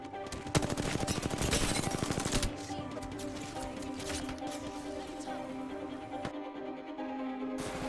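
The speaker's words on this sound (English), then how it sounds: "the sound of gunfire echoed around us" Rapid automatic gunfire rattles in Apex Legends, loud and fast for the first couple of seconds. A steady, echoing mix of game noise follows, with scattered shots and no talking.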